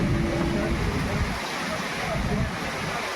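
Stormy wind with rain during the first monsoon rains in Konkan roars as a dense, continuous rush, loud and close, with heavy buffeting against the microphone throughout.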